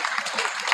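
An orientation audience claps, a short burst of steady, even applause with faint voices beneath it.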